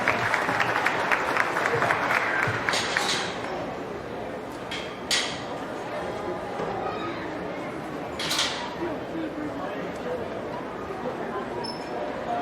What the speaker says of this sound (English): Give those kids a great big round of applause if you could